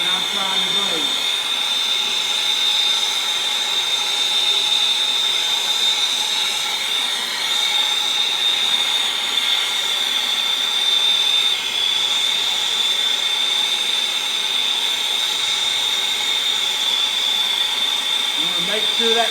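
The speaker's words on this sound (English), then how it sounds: "I'm preheating this pipe first to get it warm inside that fitting" A brazing torch preheats a pipe inside a fitting, roaring with a steady, loud, continuous hiss from start to finish while someone talks over it.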